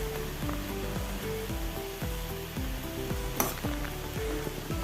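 A spoon stirs pumpkin leaf thoran with coconut and turmeric in a pan over a constant sizzle, while a repeating pattern of short, descending tonal sweeps recurs about twice a second, close and fairly loud.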